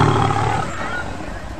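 A tiger roars loudly and close, one sustained throaty roar lasting over a second, heard alone.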